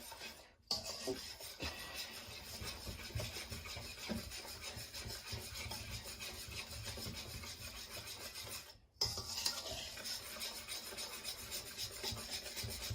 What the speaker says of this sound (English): So I'm stirring really quickly